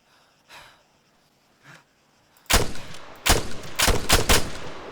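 Gunfire in the video game ArmA 3: after a couple of quiet breaths, a cluster of loud, sharp shots rings out close by in quick irregular succession.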